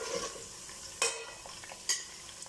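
Onions frying in oil for a Chennai-style chicken biryani, with a steady close sizzle and two brief metallic scrapes of a spoon stirring through the pan.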